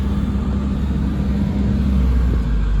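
Kobelco SK140SRLC excavator diesel engine idling from inside the cab, a steady low rumble with a faint hum, even and unchanging throughout, no voices.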